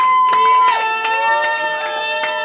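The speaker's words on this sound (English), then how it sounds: "Another round of applause" Crowd at a live music gig cheering and clapping for the guitarist, a few scattered sharp claps under a steady ringing tonal hum, with a voice briefly in the mix.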